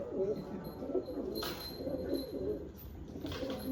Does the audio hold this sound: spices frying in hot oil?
no